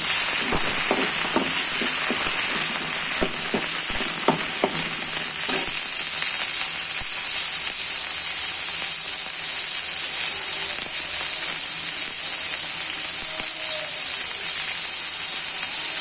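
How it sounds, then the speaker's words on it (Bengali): Ginger, garlic and onion paste sizzles steadily in hot oil in a pan while cooking radish greens, a dense continuous frying hiss with a few faint stirring clicks early on, close and loud throughout, with no talking. "অল্প আদা রসুন পেঁয়াজ বাটা সেটা দিয়ে দিচ্ছি"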